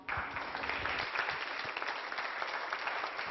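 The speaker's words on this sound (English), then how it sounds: "Please give him a warm round of applause." Warm round of applause from an audience at a talk on children living with HIV-AIDS, steady and fairly distant, even sustained clapping with no voices over it.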